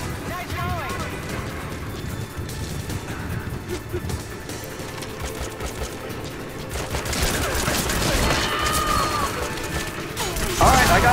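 Gunfire scoring headshots in Metal Gear Solid V online survival play: a steady clatter of shots and impacts runs throughout and swells louder near the end, with a voice talking over it.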